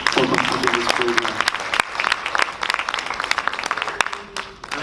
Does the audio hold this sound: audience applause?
yes